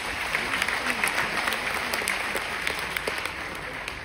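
An audience at a business talk claps steadily throughout, dense and even, filling the room.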